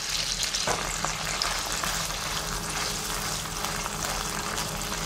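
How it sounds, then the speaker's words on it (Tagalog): Butter melting with tuna flakes in a pan, a loud, dense, continuous frying sizzle that holds steady throughout with no break. "hayaan lang natin guys na mag-melt itong ating butter"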